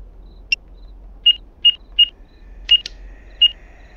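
Telephone dialing in the horror game Graveyard Shift: seven short electronic keypad beeps at uneven intervals, then a faint steady tone, clean and close with no talk.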